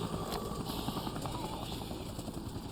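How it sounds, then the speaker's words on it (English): A helicopter in the video game Dead Rising drones with a steady rotor thrum at low level, a continuous mechanical hum. "Helicopter's going down."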